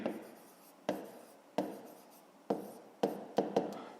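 Pen strokes on paper while working a fifth-grade math exercise: a close series of scratchy writing strokes, each starting with a sharp tap and trailing off, in uneven rhythm.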